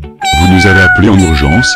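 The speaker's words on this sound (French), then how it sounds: "Mais, c'est un chat." A cat meows in a stretched, tonal cry that runs under a woman's close, continuous French speech.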